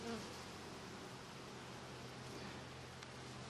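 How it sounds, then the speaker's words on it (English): Dense, steady hum of honeybees swarming over an open hive during a queen-cell search, a continuous broadband drone with no smoke used, close and even throughout without talk. "Lots of bees, that's for sure."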